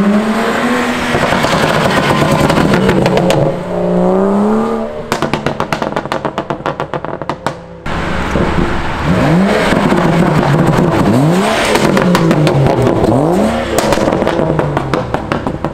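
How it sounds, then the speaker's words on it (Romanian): A BMW 435i engine revs hard while driving through town, loud and close, with rising and falling gear-change sweeps, sharp crackling pops on the overrun and a brief lull before it pulls again. "hai să vă arătăm cum se aude mașina lui acum, în schimb, în mers"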